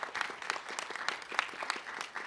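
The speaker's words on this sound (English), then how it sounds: "Give me an applause." Audience at a Chavez Huerta symposium breaks into applause, fairly faint and somewhat distant, with scattered distinct claps forming a loose, uneven rhythm.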